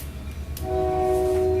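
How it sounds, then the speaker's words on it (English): A train passes near a commission meeting room, a low rumble rising into a steady, sustained horn tone, fairly loud and close. "We've got a little train noise right here now."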